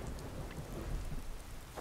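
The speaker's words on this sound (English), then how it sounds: "look at Lucien's clothes all like glistening in the rain" Steady heavy rain and a low rolling rumble of thunder in the modded video game Skyrim, a dense continuous wash close by with no voices.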